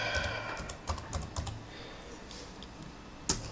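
A password being typed on a computer keyboard while setting up a network connection in Ubuntu: a quick run of light, close key clicks, then a pause and one sharper final keystroke.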